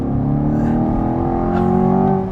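A Chevrolet Corvette Stingray convertible with an American V8 accelerating: a loud, close, deep engine drone whose pitch climbs steadily through the rev, with no voices.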